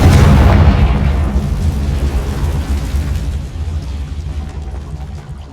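A Confringo blasting spell in Hogwarts Legacy explodes with a loud, close boom, then a long rumbling, crackling decay that slowly fades away.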